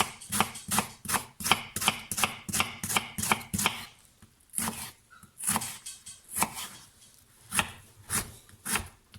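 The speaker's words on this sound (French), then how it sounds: "On va couper les oignons comme ça." A knife chops onions on a wooden board, starting with a fast, steady run of close, crisp strokes and then slowing to scattered, spaced cuts, with no voices.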